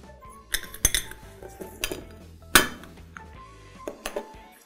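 Tomato sauce ingredients with ground clove, vinegar and paprika being mixed in a pot: a spoon clinks and scrapes against the metal in irregular bursts, a few sharp knocks standing out, close and clear.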